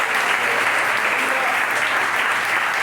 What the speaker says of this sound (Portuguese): dá uma salva de palmas calorosa para Ele